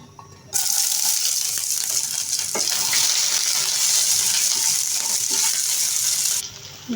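Garlic, onion and green chili hit hot soybean oil, bursting into a loud, continuous sizzle after a brief quiet start that holds steady and then drops off near the end.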